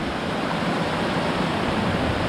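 A creek rushes along the Roaring Fork Motor Nature Trail in the Smoky Mountains, a loud, close, steady wash of flowing water with no voices.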